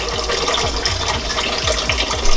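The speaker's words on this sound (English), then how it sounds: "And then we're just gonna run it through the water." Water running through hot dog casing in a kitchen, a loud continuous rushing flow with repeated low gurgling pulses as the casing fills, no talking.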